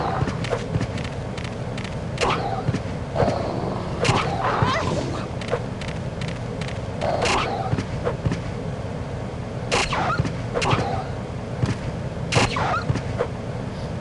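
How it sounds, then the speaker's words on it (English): Dog death cries from the Resident Evil Code: Veronica X video game, a series of short yelps and whimpers recurring every couple of seconds over a constant noisy game background. "it's still been the same like sound effect whenever you kill dogs since the beginning, since the OG game"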